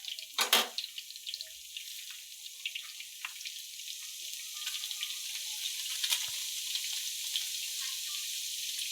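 Garlic frying on a tava, a soft continuous sizzle and crackle that builds gradually, starting with a brief louder splash-like burst.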